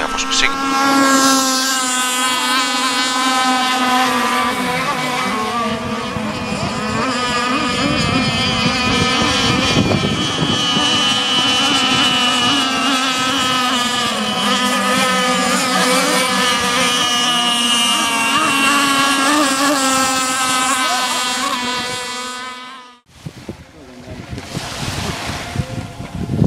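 RC model offshore racing boats in the FSR offshore 27 mono class run at a model boat race, their high-pitched motors whining steadily on water for over twenty seconds before a brief drop and restart.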